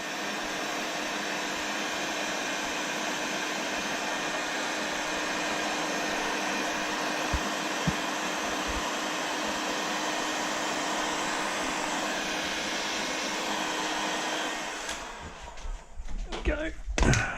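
A heat gun blows a steady loud hiss of hot air while shrinking waterproof heat shrink over two joined power cables, then cuts off near the end amid handling noises.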